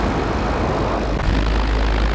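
Light propeller aircraft engine during descent, heard from inside the cabin as a loud, steady, broadband drone with no talk.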